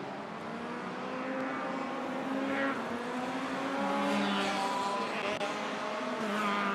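Several touring race cars at the Malaysia Championship Series roar loudly and continuously close by, engines revving and whining up and down in overlapping pitches.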